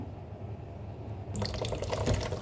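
A kitchen tap is turned on partway through and water splashes steadily into a sink while tomatoes are washed. It starts with a low hum, then the flow comes in close and fairly loud.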